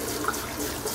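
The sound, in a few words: running cold tap water over cooked spaghetti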